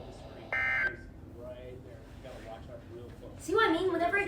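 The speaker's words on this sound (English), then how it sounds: "it just starts beeping at me" A device gives one loud, sharp electronic beep lasting a fraction of a second near the start, followed by someone speaking and then a louder burst of sound at the end.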